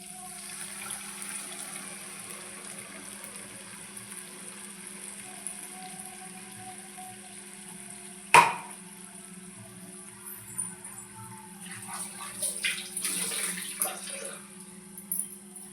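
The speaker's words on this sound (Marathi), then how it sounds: "आता आपण थोडं पाणी टाकू." Water splashes into a pan of spiced bitter gourd in a short pouring burst late on, over a steady background hum, with one sharp clink earlier.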